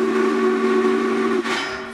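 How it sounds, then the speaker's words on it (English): The whistle of the Norfolk and Western Class J 611 steam locomotive sounds at full volume in Goshen, a loud, sustained chime tone with a hiss of steam, cutting off sharply near the end. "He paid money to hear the 611's whistle at full volume."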